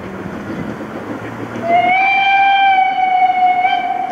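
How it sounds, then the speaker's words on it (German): A train at the Baltic seaside resort of Binz on Rügen approaching with rumbling rail noise, then a long, loud, steady whistle blast held for a couple of seconds. "Und dort kommt der Zug. Man sieht die ersten Rauchwolken."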